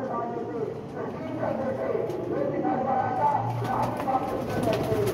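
Pigeons in a loft kept for racing and flying coo softly and repeatedly against a steady background, with someone talking nearby throughout.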